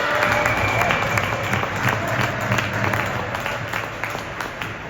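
Parents applaud at a youth hockey game in an arena: a steady wash of clapping from a crowd, fairly loud and continuous across the whole stretch, with the hollow rink ambience behind it.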